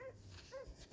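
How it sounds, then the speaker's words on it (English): A hunting dog barks excitedly at a caged squirrel, giving two short, sharp barks in quick succession at moderate distance. "he's just barking up a storm"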